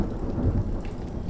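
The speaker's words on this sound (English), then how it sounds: "And it's raining." Steady rain hiss with low rumbling in a video game set during a Draugr-themed chapter, a continuous close wash of rainfall with no speech.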